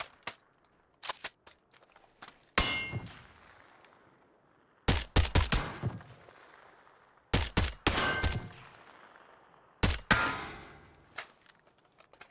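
Four sharp bursts of PUBG gunfire, each a quick cluster of loud shots that rings out and fades, separated by quieter pauses with faint clicks.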